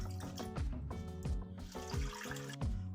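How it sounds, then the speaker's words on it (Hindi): Water poured into a cooking pot holding boneless chicken, a steady continuous splashing and gurgling stream with rhythmic surges, close and fairly loud, no talk. "बोनलेस चिकन शामिल करने के बाद अभी हम इसमें पानी शामिल करेंगे।"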